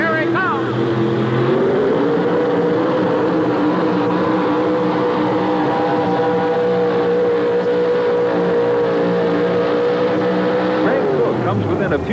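The 1988 Chevrolet pulling truck Wild Blue, 640 cubic inch engine, making a truck-pulling run on a 175-foot track at an indoor tractor and truck pull, a loud sustained roar rising in pitch, with announcer talk over it.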